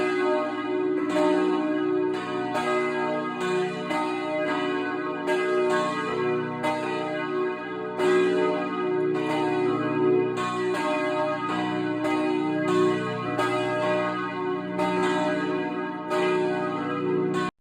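Church bells ringing in a repeating pattern of struck peals, each rich ringing tone sustaining and overlapping the next, continuous and fairly loud with no voices.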